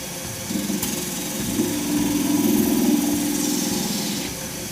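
A wood lathe spins at about 1400 RPM while a shaving brush blank is turned and its end tidied, giving a steady mid-pitched motor hum with a rising whirring tone, moderately loud and without talk.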